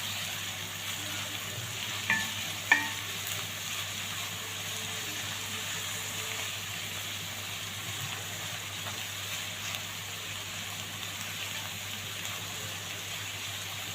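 Spices being stirred and frying in a pot while making Egyptian stuffed cabbage, a soft continuous sizzle with a couple of sharp spoon scrapes early on, steady and close with no talk.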